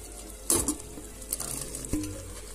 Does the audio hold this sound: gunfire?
no